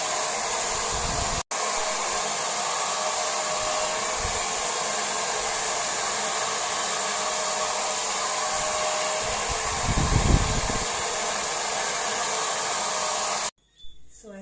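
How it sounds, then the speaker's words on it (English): A handheld blow dryer runs continuously and loudly up close while natural hair is dried in sections. It briefly cuts out once, then whooshes on steadily until it is switched off near the end. "now I'm starting with the blow dryer"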